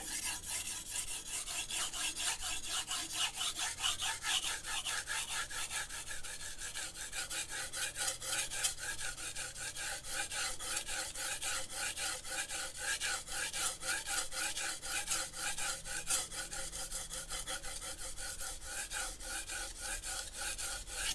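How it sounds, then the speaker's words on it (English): A knife blade is rubbed back and forth on sandpaper in steady, rapid rasping strokes, a continuous close scratching that runs evenly throughout. "it's actually good practice for those who have a really heavy hand to sharpen on sandpaper"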